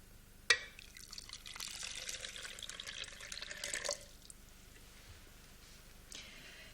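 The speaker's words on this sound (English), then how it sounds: "I'm going to take this water and pour it in the soil until it is completely covered." Water poured into soil for an air-bubble experiment, a soft steady splashing pour starting with a sharp onset and running about three seconds before stopping, followed by quiet trickles.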